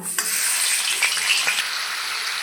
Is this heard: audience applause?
no